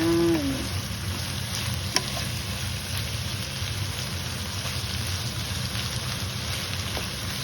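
Radish menudo (gisadong labanos) sautéing in a pan gives off a steady broadband sizzle with no pause, and a single sharp tick near the two-second mark.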